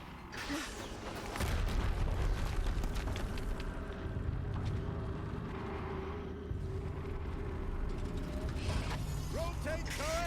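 A machine turret in Horizon Zero Dawn grinds and ratchets as it rotates, with continuous mechanical clanking and creaking over a rumbling game backdrop, a few brief tonal chirps near the end.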